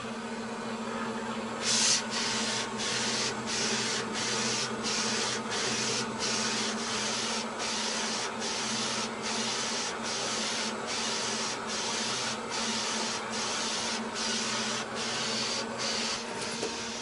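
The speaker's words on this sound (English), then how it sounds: "the machine will automatically draw the shirt back in and start printing the color on top of the" An M2 direct-to-garment printer lays color over a white underbase on a dark shirt, its print head sweeping back and forth in a quick, regular rhythm of soft strokes over a steady mechanical hum.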